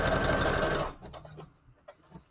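A sewing machine stitches fabric onto the spine of a junk journal in a fast, loud, continuous burst that stops after about a second, followed by a few faint handling clicks.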